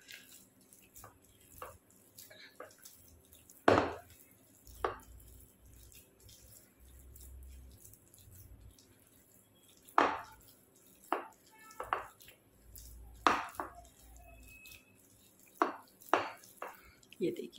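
A semolina-and-potato pakora batter is beaten by hand in a bowl, giving faint, wet slaps and taps at irregular intervals, some louder than others, over a quiet kitchen background.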